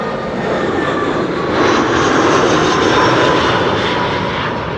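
An Aer Lingus airliner in old livery arrives from Dublin, its engines producing a loud, steady roar that swells slightly midway and holds close, with no voices.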